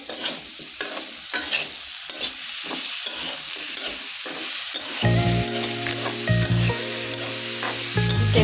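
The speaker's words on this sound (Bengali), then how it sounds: "ট্যাংরা মাছ এবং আলুগুলো ভালো করে আমি কষিয়ে নিচ্ছি এভাবে।" Tangra fish and potatoes sauté in a pan with a steady sizzle, broken by repeated scrapes and stirring strokes; halfway through, music rises beneath the frying.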